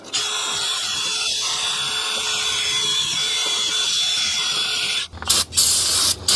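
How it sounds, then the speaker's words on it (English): A wire brush on a power drill cleans a Honda Accord rear brake hub with a steady, hissing whir for about five seconds, then stops, followed by a few handling knocks. "I'm going to clean up this hub surface with a little wire brush on a drill."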